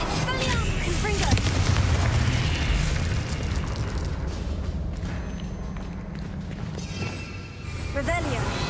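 Confringo blasting spell exploding in a Harry Potter video game: a heavy boom and rumbling burst up front, then a long crackling, hissing tail that fades before another burst rises near the end, mixed with game sound.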